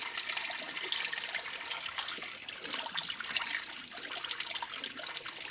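Wool socks, Royal Marine issue arctic type, being hand washed: steady close splashing and trickling of water with soft sloshing and occasional drips, continuous throughout with no talk.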